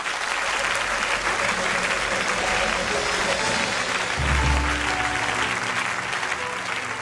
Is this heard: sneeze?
no